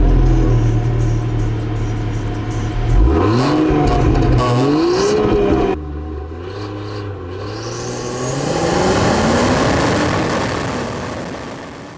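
Range Rover Sport 6-cylinder engine revving hard and accelerating, pitch rising through the gears with a shift in the middle, then a whooshing surge of road and wind noise as it pulls away.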